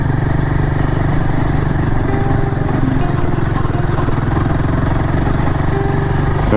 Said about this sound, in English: Now I'm going to start climbing uphill, and this is going to be fun.